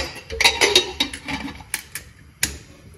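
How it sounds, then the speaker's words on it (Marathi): A pressure cooker lid being fitted on, with a quick cluster of metallic clanks and clicks followed by a few sparser taps and one final clink, close and without speech. "कुकरचं झाकण आपण लावूया."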